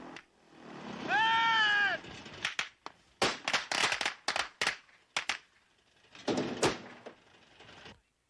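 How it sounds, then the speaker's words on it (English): Squibs wired to a nail board on an action film set fire in a ragged string of sharp, loud cracks and pops. A bleating tone and short gaps break up the bursts. "As each circuit on the nail board is triggered, the squibs will fire."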